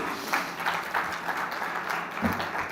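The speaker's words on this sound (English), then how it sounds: "Let's have a huge round of applause for that, please." An audience at the TCS CodeVita grand finale event in Mumbai applauds, a moderately loud, steady wash of many hands clapping, with no clear voices over it.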